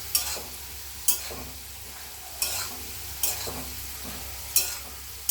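A spoon scrapes and stirs greens with potato, turmeric and cumin in a frying pan, a soft sizzle underneath and five or so sharp scraping strokes spaced about a second apart, close and clear.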